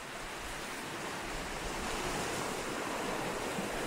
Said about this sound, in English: I was in Hawaii for a little while, so I recorded the waves there